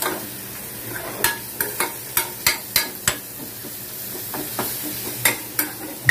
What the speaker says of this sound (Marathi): मिक्स कर, सगळं व्यवस्थित मिक्स करा.